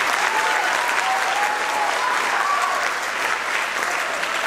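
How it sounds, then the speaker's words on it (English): A school concert audience applauds, a dense steady clapping from a crowd that carries on throughout at a strong, even level. "So I'd like a round of applause for our K-12 performing arts staff."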